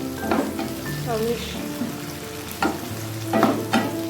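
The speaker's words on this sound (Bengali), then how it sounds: "এবার এটা একটু ভাজি হোক দেখো গাজির কোলে ভাজা" Cumin frying in ghee sizzles steadily in a pan, with intermittent scrapes and knocks of a stirring spoon; a voice briefly speaks over it.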